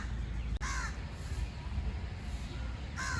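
Crows caw in a garden in Delhi, two clear calls a few seconds apart, moderately near over a steady outdoor ambience.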